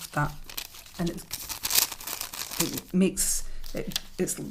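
Paper pages folded into a pocket crinkle like a glassine bag in a handmade vintage-bird junk journal, giving soft, repeated crackling rustles under steady nearby talk.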